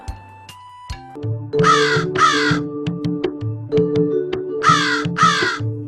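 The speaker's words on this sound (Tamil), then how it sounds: "தாகமுள்ள காகம் ஒன்று சுற்றி சுற்றி வந்தது" A thirsty crow caws in two loud bursts of harsh repeated calls, close by, over a steady musical background with plucked notes.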